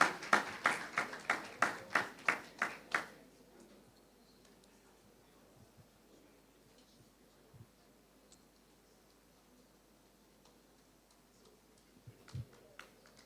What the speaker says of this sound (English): If you could just applaud them as they come, please